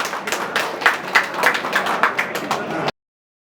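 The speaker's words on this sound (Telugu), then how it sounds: "మరొకసారి మనం అందరం గట్టిగా క్లాప్స్ కొడతాం." An audience claps loudly at the grand opening of a real estate office, a steady, dense burst of hand claps close by that cuts off abruptly after about three seconds.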